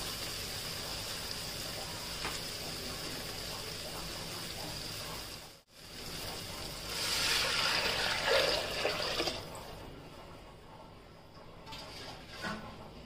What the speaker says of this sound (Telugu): ఇట్లా ఫ్రై చేసుకున్న తర్వాత ఇందులో వాటర్ వేసుకోవాలి